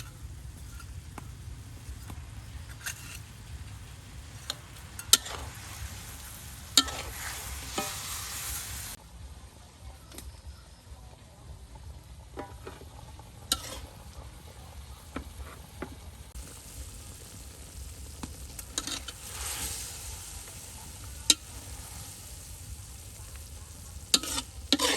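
River fish sizzling as it fries in a pan for a tamarind fish sauce dish, cooked at a market. The crackle and sizzle is steady throughout, with occasional stirring clatter and sharp pops, and no talking.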